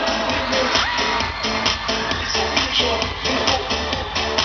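A large crowd cheers and shouts continuously at a live concert event at Impact in Thailand, a dense roar of many voices with music underneath.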